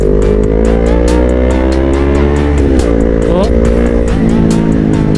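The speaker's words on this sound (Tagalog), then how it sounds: "Yung tunog ng tambucha natin, guys, habang tumatagal na ginagamit natin, mas nagiging buo." Motorcycle exhaust fitted with new fiber packing, revving loudly and close with a deep, full roar that rises and falls; someone talks over it, with rain-like hiss in the background.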